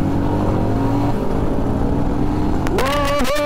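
Superbikes, including a Royal Enfield Himalayan, a Kawasaki and a KTM 650 Duke, rumble together on a Sunday group ride from Chandigarh to Solan. A close, steady engine drone runs throughout, then one bike revs sharply near the end.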